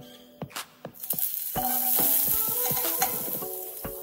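Minced garlic hits a tablespoon of hot vegetable oil in a pot with a loud, close hiss that holds steady, punctuated by sharp clinks and scrapes of a utensil.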